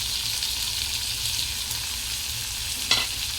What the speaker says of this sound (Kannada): ಸ್ವಲ್ಪ ಖಾರದ ಪುಡಿ ಮತ್ತು ಧನಿಯಾ ಪೌಡರು ಮತ್ತು ಗರಂ ಮಸಾಲ ಅದನ್ನ ಹಾಕ್ತಾಯಿದ್ದೀನಿ